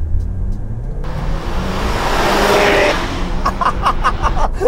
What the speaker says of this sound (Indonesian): itu salah satu suara paling karismatik yang pernah gue denger. Subaru Boxer Rumble.